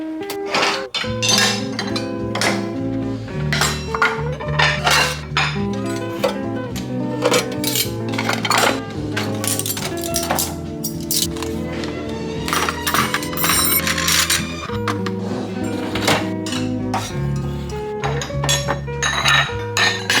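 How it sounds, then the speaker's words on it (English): Plates, bowls and cutlery clink and clatter repeatedly as dishes are stacked and set down, busy and close, with no talking. "We put those dishes all away."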